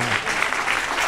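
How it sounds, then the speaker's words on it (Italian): Brief burst of audience applause at an Italian stand-up comedy show, a dense, even patter of clapping lasting about a second. "facciamo un applauso, è un genio, ragazzi"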